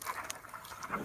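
A dog whimpers faintly in a short run of soft, high whines and breaths, heard alone and without any voices.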